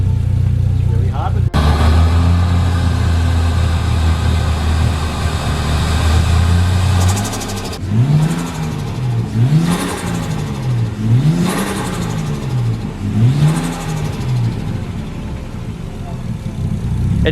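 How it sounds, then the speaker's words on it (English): Nissan R33 Skyline engine fitted with a Link G4X ECU, first idling with a steady low rumble, then blipped through four or five rising-and-falling revs in a regular rhythm, close and loud. "It's catching idle so much better."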